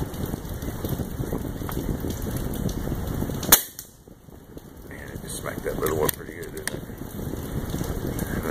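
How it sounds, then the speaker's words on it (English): Gunfire plinks at a spoon target outdoors in the rain, with a sharp crack standing out over steady patter and a few fainter pops. A voice talks now and then under the rain. "I really just like shooting the spoon the most because it's the hardest to hit."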